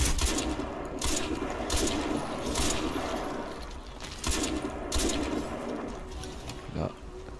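Sniper and rifle fire in the Crysis 2 shooter game: repeated sharp shots and bursts at irregular intervals over a steady, dense battle ambience.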